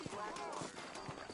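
Horses' hooves clip-clop in a brisk, uneven rhythm in Red Dead Redemption, the hoofbeats sitting beneath a voice throughout the short moment.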